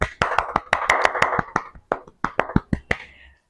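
A single person claps their hands in applause, about a dozen sharp, close claps in a steady rhythm that briefly pauses and then resumes, with no talking over them.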